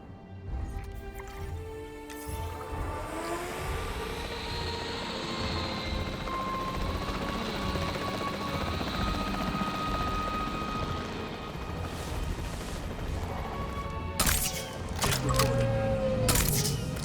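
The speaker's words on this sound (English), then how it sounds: "The priority needs to be tranquilizing it with the capture team chopper" Capture team helicopter in Jurassic World Evolution 3, a continuous rotor drone building and holding steady throughout, with game sound effects and a few sharp impacts near the end.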